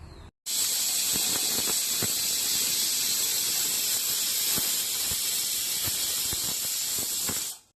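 A loud, steady high-pitched hissing whistle of a pressure cooker cooking sambar, venting steam, starting abruptly and continuing nearly unbroken for several seconds.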